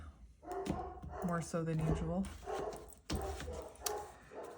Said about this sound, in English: My dogs are going crazy today,